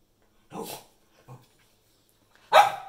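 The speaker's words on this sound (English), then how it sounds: "I have a puppy trying to get my attention" A puppy gives a few short barks and yips indoors, with two brief sounds followed by a louder sharp bark near the end, close by and otherwise quiet.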